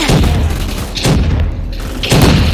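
A new gun firing in the video game Roblox, three loud booming shots with deep thuds spaced about a second apart, close and dominant with no talking.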